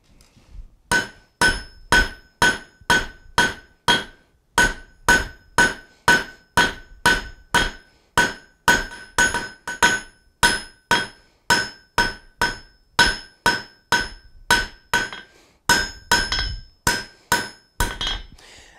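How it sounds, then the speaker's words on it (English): A fullering tool struck repeatedly with a hammer to cut grooves into hot steel while forging a J hook: a steady run of about thirty sharp, ringing metallic blows in even rhythm, close and loud, with no talking. "I think I'm actually going to take one of my fullering tools, put a couple of grooves in it just for the heck of it."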